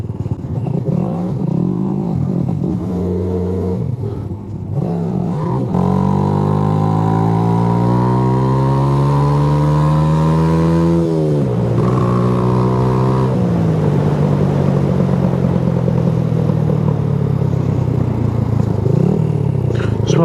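A Suzuki GN125 motorcycle ridden in first gear, with a loud, close engine drone that revs up and down in pitch as the bike accelerates, eases off and picks up again.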